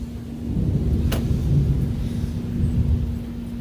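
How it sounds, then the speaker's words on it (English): A heavy thunderstorm outdoors, with a steady roar of heavy rain and a sharp crack of thunder near the start that settles into continuous rumbling wash; a constant electrical hum runs underneath. "it's raining like heck."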